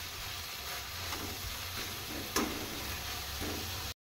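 Chopped tomatoes sizzle steadily in a pan with very little oil, a close continuous frying hiss with a few light scrapes of stirring and no voices.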